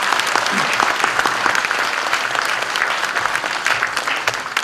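Steady, dense applause from a crowd at a political party launch event in North Jeolla, continuous clapping throughout with no pauses.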